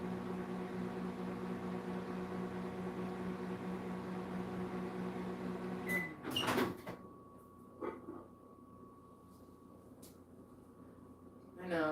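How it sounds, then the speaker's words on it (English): A microwave oven heats a cup of coffee with a steady hum for about six seconds, then stops with a clunk and a beep, and a few quiet handling knocks follow. "But I have to heat up my coffee. It's pretty much the only thing I use the microwave for."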